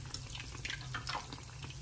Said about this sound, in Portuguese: É isso aí, fritando aqui, ó.